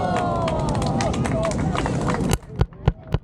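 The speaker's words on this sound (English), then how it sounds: "Clap for the second one." A street show crowd murmurs and babbles, then falls quiet before a few sharp, scattered hand claps ring out separately near the end.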